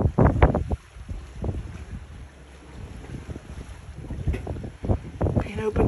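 Wind gusting across a cruise ship's open balcony on the Solent, buffeting the microphone in loud rumbling bursts that rise and fall, with a person talking over it.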